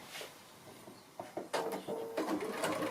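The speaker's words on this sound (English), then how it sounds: "So I'm going to go to the sewing machine now" A sewing machine stitches a quarter-inch seam on quilt pieces, starting with a few hesitant taps before breaking into a fast, close mechanical rattle.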